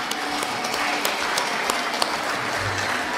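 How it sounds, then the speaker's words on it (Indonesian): A crowd at a Jakarta event claps together after a brass performance of Betawi music, a steady, dense wash of hand claps with a few sharper individual claps standing out and no talk over it. "Tepuk tangan dulu"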